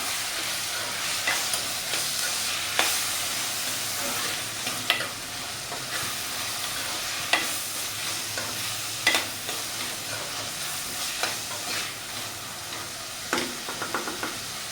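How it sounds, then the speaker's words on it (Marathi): Chopped onion and tomato sauté in hot tempering oil for misal, a steady close sizzle with periodic scraping and stirring clicks from the pan, no talking. "कांदा टमॅटो चांगला परततो आहे"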